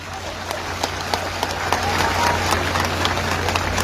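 A crowd applauds during a public address by a Canapé-Vert brigade chief, a dense crackle of clapping that swells and holds steady over a low, constant hum.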